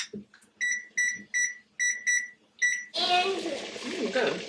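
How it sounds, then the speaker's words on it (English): Kitchen timer being set for deviled eggs, giving a run of seven short, bright electronic beeps in steady rhythm, followed by a burst of broadband clatter and kitchen noise. "Setting that timer"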